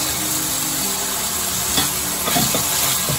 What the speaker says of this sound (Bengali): এখন এটাকে একটু ভাজা ভাজা করবো